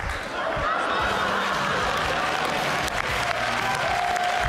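A theatre audience at a comedy show applauds continuously and loudly throughout, a full even wash of clapping with some crowd noise beneath.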